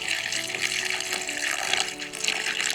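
Dried prawns rinsed under running tap water in a village kitchen, a steady close splashing and trickling stream that carries on for the whole stretch, with no voices.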